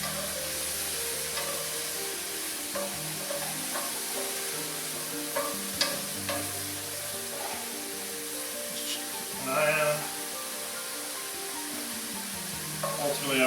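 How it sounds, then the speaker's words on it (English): Button mushrooms sizzle steadily in a pan at low volume while they sweat down, with occasional stirring clicks and scrapes and a brief flare of louder sizzle. "my mushrooms are definitely starting to sweat down a little bit"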